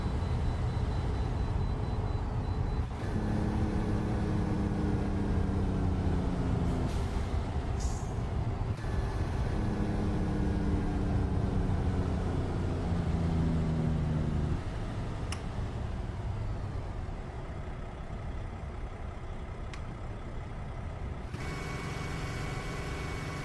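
A truck engine in American Truck Simulator drones loud and steady with low rumbling tones that shift pitch as it works through gears, a few sharp clicks and a brief hiss breaking in.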